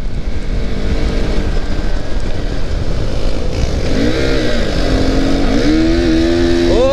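A KTM Duke 390 motorcycle in a street race, its engine droning loud and close under heavy wind rush, with rising and falling revs as the rider accelerates toward the end.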